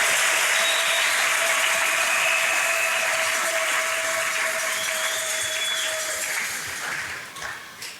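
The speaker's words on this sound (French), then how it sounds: "Accepte encore une fois nos acclamations et nos cris de joie," Sustained applause and cheering from a church congregation during a Sunday service, steady and full for about seven seconds before tapering off at the end.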